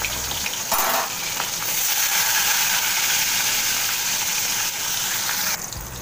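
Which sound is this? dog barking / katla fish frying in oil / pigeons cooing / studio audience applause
katla fish frying in oil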